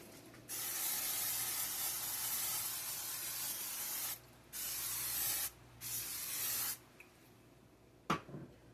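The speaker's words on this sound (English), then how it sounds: "the clean thing, we're going to spray it again." A long steady hiss of a spray bottle, broken by brief pauses into several bursts, then a sharp click near the end.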